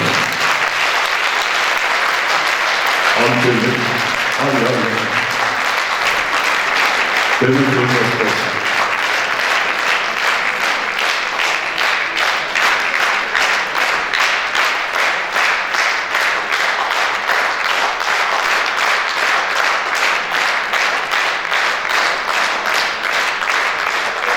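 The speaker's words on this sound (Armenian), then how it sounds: "Եկեք ծափարենք։" Sustained loud audience applause fills the whole stretch, with a voice briefly heard over the clapping near the start.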